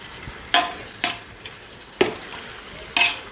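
Yogurt and tomatoes being stirred into vegetable biryani in a pot: four distinct clanks of a spoon against the pot, spaced at uneven intervals over a quiet background hiss.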